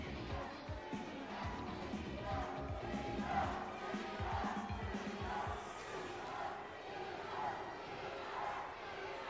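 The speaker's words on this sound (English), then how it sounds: "The crowd is yelling, cheater." Wrestling crowd at a UWF event yelling and chanting in a rowdy, reverberant arena roar, sustained at moderate distance with rhythmic shouted bursts.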